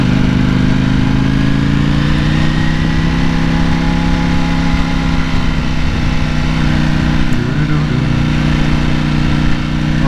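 A 2020 Ducati Streetfighter ridden in sport mode, giving a loud, steady engine drone that holds even pitch throughout under rushing wind noise.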